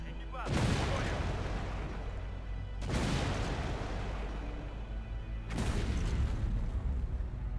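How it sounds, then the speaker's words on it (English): Heavy gunfire and cannon blasts in the video game Hidden Stroke 2, three loud booming volleys spaced a few seconds apart, each decaying into a long rumbling tail. "so we're gonna start shooting stuff here"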